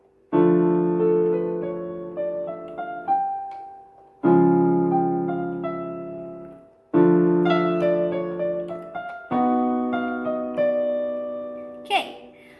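Piano playing parts four and five of a piece from IT: four slow sustained chords, each struck firmly and left ringing to fade, with a soft brief sound at the close.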